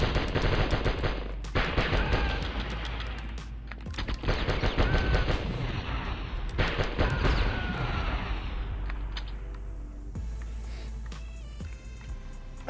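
Rapid machine-gun bursts and booming explosions from the Die Hard Trilogy video game, loud and repeated in clusters with short gaps, ending in a thinner stretch of scattered shots.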